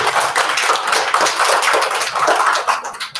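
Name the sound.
school assembly clapping for Jonathan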